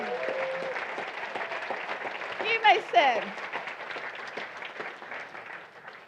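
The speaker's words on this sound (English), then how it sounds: "Let's give them a round of applause." An audience at a convention gives a round of applause, a soft wash of clapping running throughout beneath a speaker's voice, with a brief louder swell in the middle.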